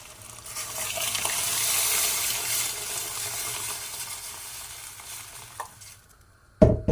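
Water poured into a pan of cooking nettle dish, a rushing pour that swells over the first seconds then fades into soft simmering, ending with a couple of sharp clatters.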